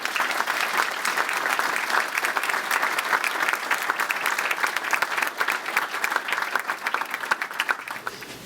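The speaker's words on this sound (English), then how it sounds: "if I could have a round of applause for the 3" Sustained, dense applause from an indoor audience at a police swearing-in and promotion ceremony in Manchester, NH, honoring three promoted officers; steady, even clapping that holds at full strength for the whole stretch, thinning only slightly at the end.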